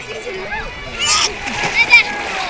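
Children splash about while bathing in the clear stream at Jaflong Zero Point in Sylhet, with a few short, close watery splatters over a running-water wash and voices in the background.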